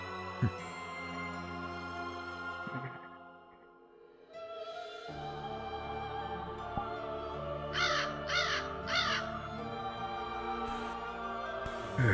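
A crow caws three times in quick succession over a steady tonal background hum, fairly close and clear, with a few sharp clicks scattered before and after.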